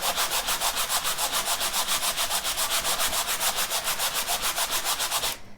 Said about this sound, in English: When you sand it or distress it in any way, you get this lighter color.